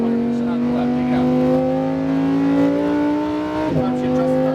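A car accelerates on a racing track at Las Vegas Motor Speedway, its engine tone rising steadily and loud and close as throttle opens, with a brief dip near the end; a voice talks over it.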